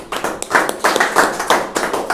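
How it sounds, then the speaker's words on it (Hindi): A congregation at a midweek church service claps hands in a steady rhythmic burst of many overlapping claps, moderately loud, with no talk. "क्यों ना हम परमेश्वर के लिए जोर से ताली बजाए और धन्यवाद दें"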